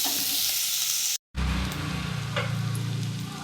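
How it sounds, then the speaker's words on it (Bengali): Dried red chillies and onion frying in hot oil, a bright steady sizzle cut by a brief gap, then a louder crackling hiss with a lower bubbling rumble underneath. "লঙ্কাটাকে আমি সাইড করে তেলে ভাজবো।"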